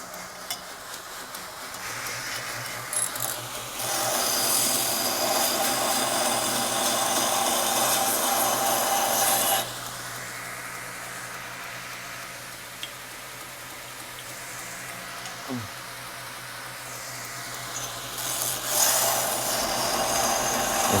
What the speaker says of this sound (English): so the grinding begins. I'm gonna just grind this all out.